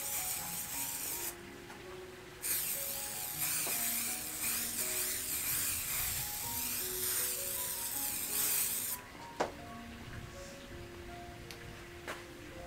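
Spray varnish hissing onto an abstract fluid-pour acrylic painting with metallic paint, one long steady spray burst after a short one, close and fairly loud over soft background music.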